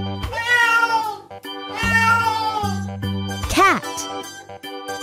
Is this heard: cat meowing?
yes